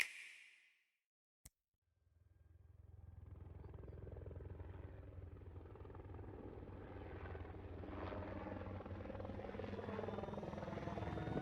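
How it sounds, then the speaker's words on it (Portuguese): A helicopter in a video game trailer shown during a Nintendo Direct starts faint after a brief click, then its rotor and engine noise swells into a loud, steady, throbbing roar that builds until the end. "Helicóptero."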